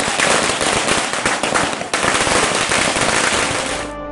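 JD(S) workers set off a long string of firecrackers to celebrate an election victory, loud rapid cracks and pops bursting close by in a continuous crackling volley before stopping abruptly.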